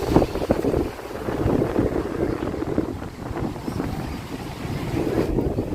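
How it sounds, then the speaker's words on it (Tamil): Strong sea wind blows along the Cuddalore coast, a loud, continuous gusty roar buffeting the microphone, with surf washing faintly underneath. "நல்லா காற்று அடிக்குது. கடலோட காற்று அப்படியே ஸ்ட்ரெயிட்டாக"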